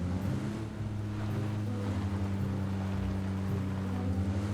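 A steady low engine drone hums throughout, continuous and even, from a vehicle idling or cruising in the video game PUBG (Battlegrounds), with no talking.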